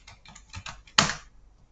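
A short, close burst of typing on a computer keyboard, several quick key taps followed by one heavier keystroke, then quiet.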